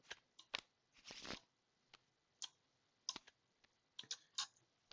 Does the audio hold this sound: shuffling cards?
yes